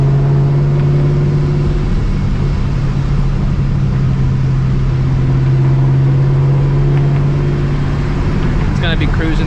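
A straight-piped, supercharged New Edge Mustang GT drives through a residential area, its exhaust holding a loud, steady droning tone heard from inside, easing off briefly mid-run before settling back to cruise.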